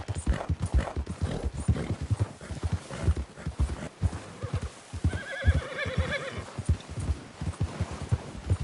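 A horse's hooves clip-clop steadily and close by in Red Dead Redemption 2, with a clear neigh partway through.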